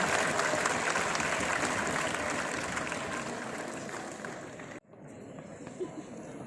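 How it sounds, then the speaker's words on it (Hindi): Loud, dense applause at a World TB Day 2026 TB-free campaign event in Uttar Pradesh, clapping for the Union Health Minister, steady for nearly five seconds before cutting off abruptly, then a quieter hall murmur. "एक बार जोरदार तालियां माननीय मंत्री जी के लिए।"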